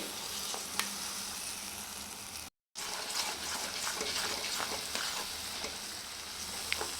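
Ground masala paste frying in an oily pan for a paneer gravy, a dense continuous sizzle with occasional light scrapes and ticks, close and even in level, a brief cut to silence midway.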